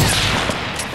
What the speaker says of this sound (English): Oh, I'm gonna use my hunting rifle.